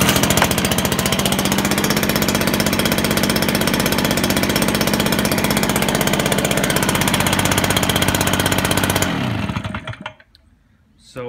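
A Stihl BR 450C-EF 63cc two-stroke backpack blower engine runs loud and close with a steady, buzzing drone, then cuts off abruptly near the end, leaving brief quiet.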